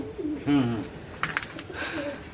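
Caged pigeons coo close by in a few soft, low, throaty bursts, with light rustling and faint chatter in the background.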